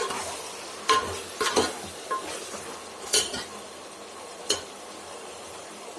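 Vangibath stirred in a pan while it sizzles: a soft, continuous frying hiss underneath, broken by several sharp metallic clinks and scrapes of a spoon against the pan, spaced irregularly and close by.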